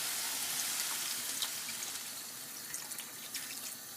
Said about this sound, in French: Donc là, je vais rajouter l'eau.